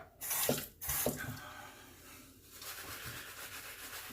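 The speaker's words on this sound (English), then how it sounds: "it actually builds a pretty decent lather with not a lot of application" Shaving brush working shave soap into lather, a wet rubbing and swishing with a couple of sharp brushy strokes early, then a steadier softer churn close by.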